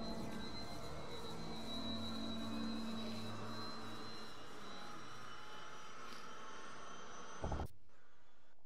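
A helicopter in the VR shooter Virtual Battlegrounds gives off a steady, even whine and rotor drone. It holds for about seven seconds, then a short loud burst cuts it off and a quieter hum remains.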